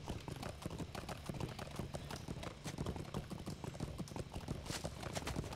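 A herd of wild horses trots in formation in a video game, a busy, continuous patter of overlapping clip-clop hoofbeats, fairly close and steady with no pause.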